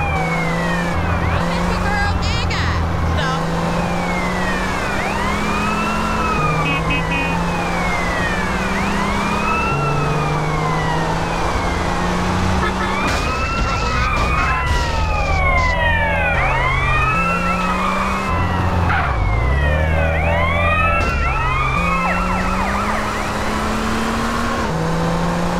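In GTA San Andreas, a police car siren wails continuously in rising and falling sweeps over a steady engine drone, loud and sustained, with occasional talk mixed in.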